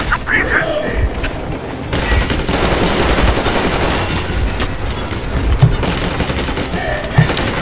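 Rapid gunfire in Metro Exodus, bursts of shots with mechanical clicks over a steady loud din of combat, with a voice talking in places.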